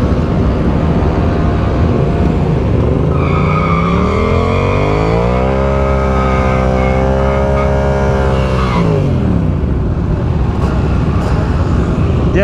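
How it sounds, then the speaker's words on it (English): Yamaha R7 motorcycle doing a burnout, a steady loud engine roar that climbs in pitch to a sustained high rev for several seconds, then drops back, with tyre noise throughout. "Yeah, maybe I should do a burnout on the R7."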